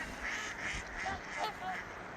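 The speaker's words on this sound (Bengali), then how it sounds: "হাঁসগুলো এখানে এসে জমা হয়।" Several ducks quack back and forth on a Minnesota lake in a steady, overlapping chatter, moderately close, with an open outdoor hush behind them.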